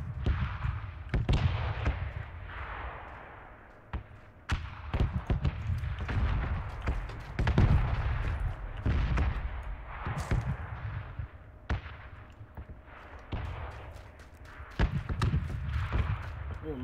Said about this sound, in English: This is shotgun.